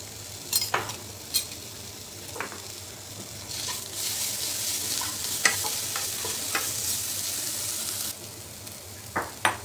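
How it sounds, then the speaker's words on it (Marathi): Green chili thecha is stir-fried in a pan, with a continuous close sizzle broken by sharp scraping stirs at irregular intervals. No one speaks. "ठेचा घालायचा आहे. कच्चेपणा कमी होईपर्यंत परतून घ्यायचं आहे."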